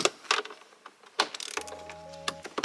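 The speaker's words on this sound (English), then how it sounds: "Just use a wrench and a standard torque wrench and make the connection." A wrench tightens the main battery connections of a camper van power system using Battle Born batteries, making a few close, faint ratcheting clicks and small metallic ticks in short irregular bursts.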